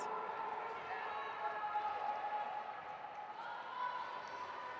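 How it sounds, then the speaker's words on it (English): Crowd noise at a roller derby game in the Cactus Cup, a steady, loud roar of cheering and voices that swells slightly throughout, with a broad wash of sound and no distinct individual calls. "Lots of loud noises as the crowd goes absolutely mild."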